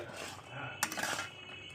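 A spoon stirring raw mango sweet pickle in a pot, a short burst of metallic scraping and clinks against the pot over a low steady background.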